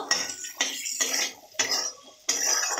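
Peas dusted with turmeric being fried and stirred in a pan, heard as a run of close scraping spoon strokes with short pauses between them, about four strokes over a few seconds, with no talking.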